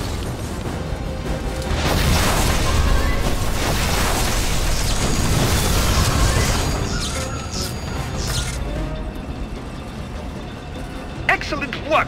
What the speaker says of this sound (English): The explosion has opened up another path.